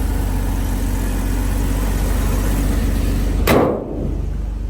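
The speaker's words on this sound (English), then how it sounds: "It's got like a nice classic truck, not vibration, but rumble." A 1959 GMC 100 Stepside pickup idles with a smooth, steady low rumble, close and continuous, broken near the end by a brief loud whoosh before the idle carries on.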